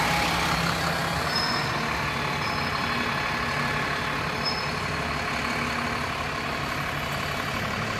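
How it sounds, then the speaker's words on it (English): A Stagecoach East Midlands single-deck bus in plain livery idles nearby after starting up, a steady diesel rumble with a faint high whine and occasional brief hisses throughout. "the bus, I just missed the start up, but it has started up."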